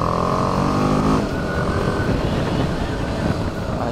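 A BMW G 310 R motorcycle engine drones under riding, its pitch climbing and then dropping sharply at a gear change into a lower, rougher rumble; the sound stays close and steady.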